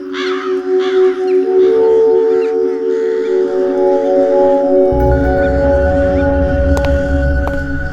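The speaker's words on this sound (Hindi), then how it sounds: "ये कौवे यहाँ पर ऐसे ही रहते हैं क्या? इनके काँव ने मेरा सिर दुखा दिया है।" Several crows caw loudly and repeatedly close by, harsh calls layered over a steady droning background hum with a lower rumble joining later.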